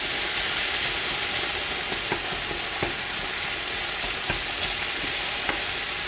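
Ground beef browns in a hot pan with a dense, steady sizzle, broken now and then by faint scrapes and taps of stirring, close and continuous with no talking.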